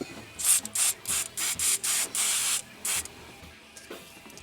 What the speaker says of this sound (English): I think the first thing I want to do is hit it with some deoxit